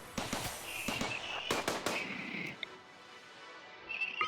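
Sharp gunfire cracks from colonists and mounted turrets in RimWorld, several quick close shots bunched together and then fading into lighter background noise.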